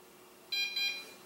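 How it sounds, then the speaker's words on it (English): Two short electronic beeps from a Virhuck V6 GPS brushless drone receiver sound in quick succession, high-pitched and faint against quiet background hiss. "Leave it lay steady until you hear a beep beep on your receiver."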